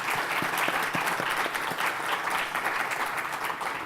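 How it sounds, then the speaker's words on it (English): Applause for the panelists at a diversity event, a full, steady round of many hands clapping at moderate volume throughout, with a few sharper individual claps standing out early on. "So let's give them a round of applause."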